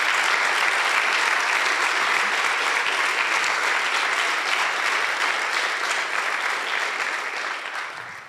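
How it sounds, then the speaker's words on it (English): An audience at a school's Class 12 special project presentations claps steadily for about eight seconds, a dense, even round of applause that fades slightly at the end. "Can we give them a clap?"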